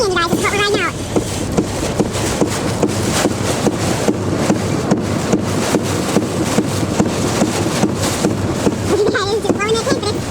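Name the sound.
strong hurricane winds blowing against a tent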